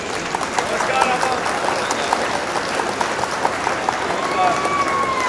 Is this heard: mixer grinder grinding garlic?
no